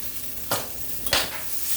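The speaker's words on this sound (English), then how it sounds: "Saute it up with this spatula because it's gonna get soft once I stick it inside of the glaze" Asparagus sautéing in a pan, with a spatula scraping and stirring it in two short, crisp strokes over a steady low sizzle.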